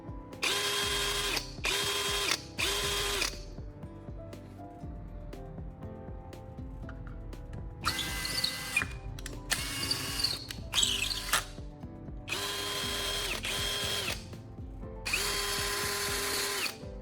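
Cordless drill fitted with a freshly swapped battery, whirring loudly in several distinct bursts of a second or two, separated by quieter pauses with faint clicks and handling noise.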